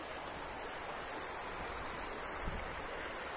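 The Suaza river at Guadalupe, Huila, rushes at dusk in a steady, full, unbroken roar of flowing water, close and alone.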